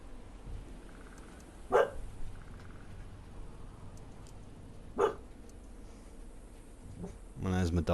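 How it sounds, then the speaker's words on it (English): A pet dog gives two sharp, separate barks a few seconds apart over a low hum of background noise. A person starts speaking at the very end. "there's my dog giving her a bit of commentary"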